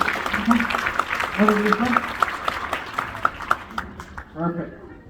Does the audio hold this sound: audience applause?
yes